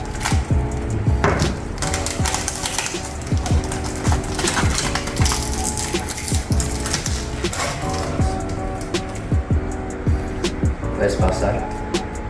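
Unpacking a MakerBot Sketch 3D printer by hand: repeated crinkles, tears and scrapes of packing material, continuous and close, with speech over much of it.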